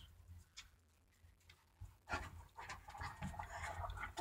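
Dogs pant close by in a quiet indoor space, starting with soft, scattered breaths and building into steady, rapid panting.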